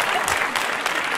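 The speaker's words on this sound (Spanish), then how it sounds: "Lo aplaudas." A short burst of crowd applause, dense and loud, from a group of people gathered with a vlogger talking about empanadas, with a voice briefly heard under the clapping.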